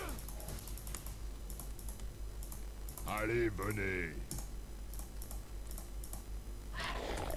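Rapid clicking of computer keyboard keys in bursts during a League of Legends session, close to the microphone, with a short spoken phrase in French partway through.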